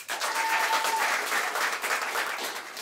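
Audience applause at a stand-up comedy show, a burst of dense clapping that rises at once and stays strong for a few seconds before thinning slightly toward the end.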